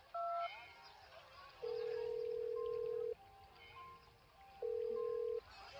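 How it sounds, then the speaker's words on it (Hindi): Telephone dialing tones: a series of distinct electronic beeps of differing lengths, two of them long and held, with short pauses between and faint background noise. "उन्होंने राजन को फोन मिलाया।"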